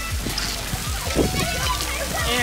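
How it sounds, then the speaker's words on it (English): A smartphone being lowered into water, with close sloshing and splashing that carries through the whole stretch while a voice talks over it. "I'm gonna put this underwater."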